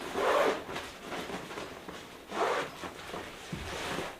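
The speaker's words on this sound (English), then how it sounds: "We'll unzip this, and it's got a nice quality zipper. So let's get this unzipped real quick." Zipper on a Litebox light kit carrying bag pulled open in a few close, scratchy strokes, with brief pauses between the pulls and no talking.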